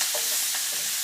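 Onions sweat in a frying pan for a takeaway-style Chinese curry and get stirred around, giving a steady close sizzle with soft scraping movements through it and no voices.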